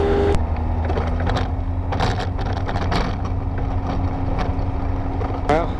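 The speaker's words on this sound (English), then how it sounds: "Can't shut the engine off." Small plane's engine running on the ground after an emergency landing, a loud continuous drone at close range that stays steady throughout, with a few brief clicks and knocks on top.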